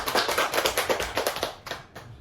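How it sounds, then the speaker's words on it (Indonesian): A class claps together for presenting students, a short burst of quick, close handclaps that thins out and fades after about two seconds. "beri tepuk tangan dulu buat Dendra dan Nina."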